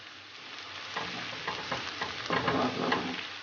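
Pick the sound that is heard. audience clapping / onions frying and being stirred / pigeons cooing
onions frying and being stirred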